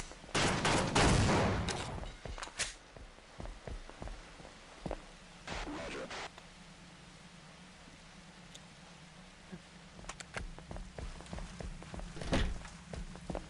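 Machine gun fire in the Half-Life: CAGED game: loud bursts of rapid shots, then scattered single shots and a quieter stretch, with footsteps and a few brief game noises between bursts.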